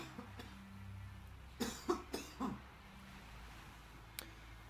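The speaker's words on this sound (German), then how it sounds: "Moment, ich muss wieder husten." A man coughs several times in a quick cluster of four harsh bursts, recorded at close range over a quiet background hum, with a faint click afterward.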